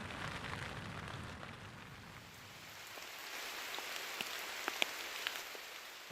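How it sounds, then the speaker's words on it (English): Steady rain falls on trees and surfaces in wet woodland, a dense continuous hiss with scattered sharper drips and taps, fairly close and alone with no voices. "It's even raining in the shelter of the trees."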